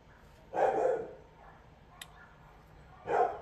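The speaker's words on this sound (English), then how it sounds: "Oh, there's my dog." A security dog in a home gives two barks, fairly close and moderately loud, spaced a few seconds apart over a quiet room background.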